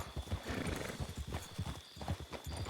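Steady clip-clop of horse hooves at a trotting rhythm in the video game Red Dead Redemption 2, fairly close, with a brief neigh mixed in and a busy background hum.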